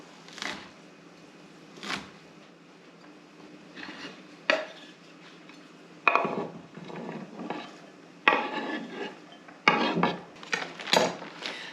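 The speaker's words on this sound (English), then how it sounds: "I'm just going to chop these up" Irregular knife taps and thuds on a cutting board while chopping asparagus, a dozen or so scattered chops, some in quick clusters, close and fairly quiet, no voices.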